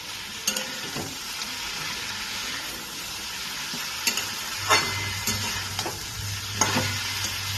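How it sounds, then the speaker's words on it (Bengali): Potato and eggplant pieces frying in a pan for a Bengali katla fish oil chorchori, a steady close sizzle with occasional scraping stirs and spatula clicks. "এটাকে আমি এবার একটু ভালো করে ভেজে নিচ্ছি"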